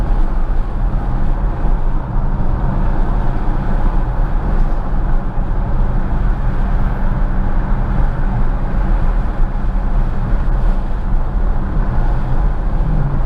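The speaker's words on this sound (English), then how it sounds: "Definitely hear the supercharger in this thing now." A Dodge Challenger or Charger Hellcat engine with an aftermarket intake drones steadily and loudly from inside the cabin, with a faint supercharger whine riding over the low rumble.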